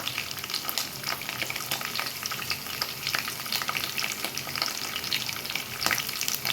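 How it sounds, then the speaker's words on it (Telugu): Dal and other ingredients fry in hot oil for a pappu tomato dish, giving a steady, dense crackling sizzle with frequent sharp pops, close and loud, with no talking. "మొత్తం అన్నీ నూనెలో ఫ్రై చేస్తున్నాను."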